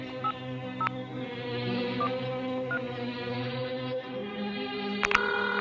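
A telephone is dialed in a film scene, with short separate keypad tones spaced out over a steady background hum and a quick double beep at the end.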